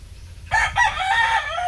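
A gamefowl rooster in a breeding pen crows once, close and loud, a single cock-a-doodle-doo lasting about a second over quiet background noise.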